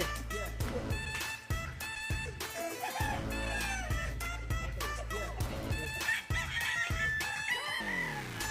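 Chickens and fighting cocks in a rural Philippine backyard cluck and crow loudly up close, calls overlapping steadily above a low droning hum.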